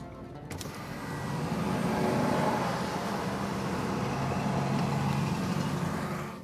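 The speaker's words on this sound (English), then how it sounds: "we are now standing on the edge of quite a noisy road" Steady roar of passing road traffic heard from inside a car with the window open, cars and heavier vehicles blending into a continuous wash of engine and tire noise that swells slightly and holds.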